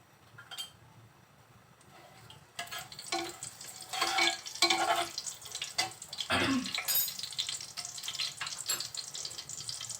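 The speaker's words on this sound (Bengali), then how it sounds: "তেলের মধ্যে দিচ্ছি গোটা মশলা তেজপাতা আর গরম মশলা" Whole spices, bay leaves and garam masala tossed into hot oil, starting quiet and then breaking into a loud, crackling sizzle with stirring scrapes, close up.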